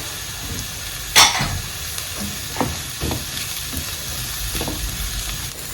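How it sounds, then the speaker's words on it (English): Garlic sizzles in a frying pan for creamy spinach pasta, a steady close hiss with a sharp clatter near the start and a few softer scrapes of stirring after. "Time to add our garlic."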